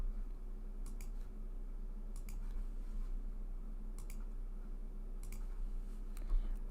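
Computer mouse clicks in small clustered bursts, spaced a second or so apart, sharp and close, over a steady low electrical hum while browsing trading charts, no speech.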